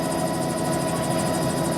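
A helicopter lifts off nearby, its loud, steady rotor thrum and engine whine filling the air with a continuous rhythmic chop and no pauses.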